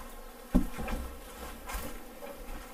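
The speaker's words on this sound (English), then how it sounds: "The bees are all over the window screen." Steady, low insect buzzing of honey bees crawling over a window screen during a hive extraction, a busy swarm hum with a sharp tap near the start, continuous and fairly quiet.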